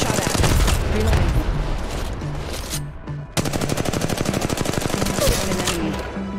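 Rapid automatic gunfire rattles in Apex Legends Mobile, loud bursts of evenly spaced shots that break briefly and then resume in a steady fast stream, with game voices under the shooting.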